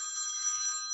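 A telephone rings during a talk about constitutional law, a steady high electronic ringtone tone that holds continuously for the whole second, clear and prominent with no speech over it.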